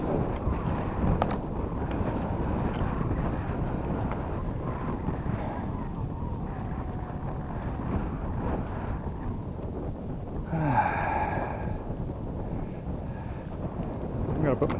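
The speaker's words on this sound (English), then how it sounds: "Wind is picking up." Wind buffeting a microphone on the West Coast Trail near Owen's Point, a steady low rumbling roar throughout, with a brief brighter tonal sound near the end.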